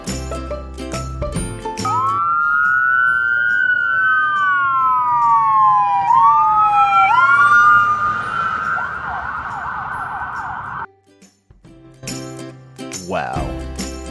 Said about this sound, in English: Wow, that siren was loud.